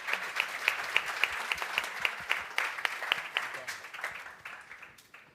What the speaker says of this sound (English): please let's clap for the panel.